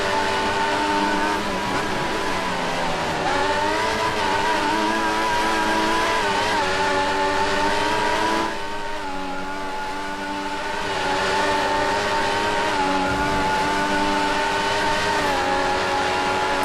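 GP2 open-wheel race cars scream around the Australia circuit, a loud, sustained high-revving engine whine that shifts pitch as cars pass, with a brief dip before the roar resumes, constant throughout.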